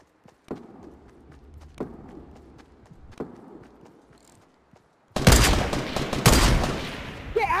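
Magnum gunfire in a video game: a few sharp, spaced reports and footstep-like knocks are followed by a sudden loud burst of close shots and clattering noise that carries on to the end.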